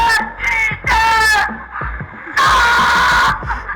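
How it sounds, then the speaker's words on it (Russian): A loud MP3 car alarm blares a harsh, distorted recorded voice shouting for help in repeated bursts, like a siren, with brief gaps between calls. "Либо с призывом о помощи."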